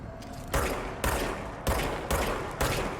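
Weapon fire in the video game Control, five evenly spaced heavy shots with booming echoing tails, loud and alone.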